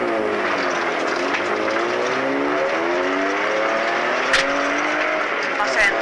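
A rally car launches from the start line at the 2024 Suomussalmi rally, its engine loud and close as rising, stepped revs climb through the gears in a steady, continuous roar.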